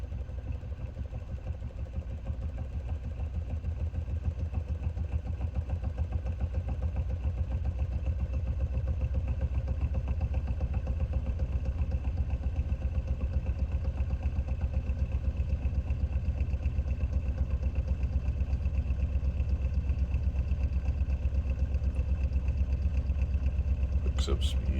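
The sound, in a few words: magnet ramp pulse motor running and picking up speed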